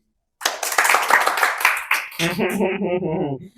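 Podcast studio audience clapping for a talk-show host: a dense burst of many hands for about two seconds, then a voice talking as the clapping thins out.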